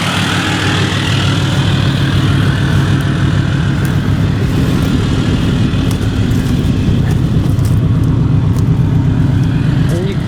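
Several cars and a truck idling together outdoors, their engines making a steady, loud, continuous rumble with a dense low drone that stays level throughout, without any voices over it.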